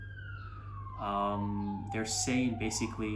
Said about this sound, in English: there's a siren going on